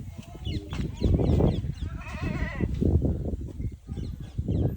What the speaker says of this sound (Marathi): शेळी कशी ओरडते ती